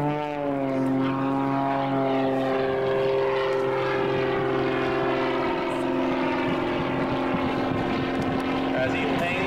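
Propeller aerobatic plane at an airshow, its engine droning steadily and loud with a pitch that shifts as it climbs, hangs and dives, while an announcer talks over it.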